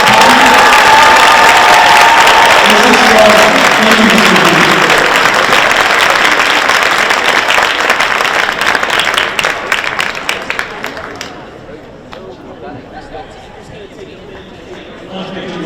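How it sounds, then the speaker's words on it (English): An audience at Lowell High School applauds and cheers during the 2026 Massachusetts Teacher of the Year presentation: loud, dense clapping with cheers that thins out after about ten seconds, followed by a speaker beginning to talk. "So give her a big round of applause."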